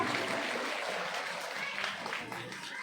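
Audience applause for a child on a family quiz show, a sustained wash of clapping from a crowd that holds steady and tapers slightly toward the end.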